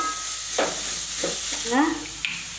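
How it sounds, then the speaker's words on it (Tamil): Egg being sautéed in a pan, with a steady background sizzle broken by several scraping stirs, and a short voice sound in the middle. "முட்டை வந்து நல்லா இதில் வதக்கி முட்டை லைட்டாக தெரியும்"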